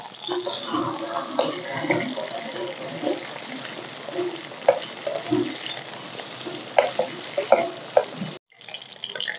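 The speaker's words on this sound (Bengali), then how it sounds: "মাছ ভাজা হয়ে গেছে" Pieces of rohu fish fry in a pan with a steady, hissing sizzle, broken by occasional clicks and knocks of utensils, close and moderately loud, with a brief dropout near the end.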